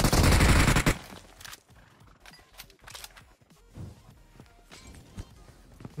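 Automatic gunfire in PUBG Mobile: a loud roaring burst up front, then a string of sharp, scattered shots and impacts of varying loudness, with faint movement noise between them.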